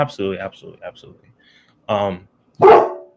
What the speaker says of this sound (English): Ooh, that was a big deep bark too.